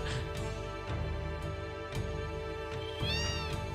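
Repeated cat meows from a video game where many cats fill a house, a cry every half second or so over steady game music and hum, with a longer, louder yowl near the end.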